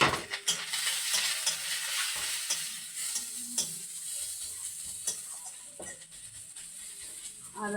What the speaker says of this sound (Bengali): এটা একটু হালকা করে আমি ভেজে নেব ধনে নিয়ে বেশিক্ষণ নাড়বো না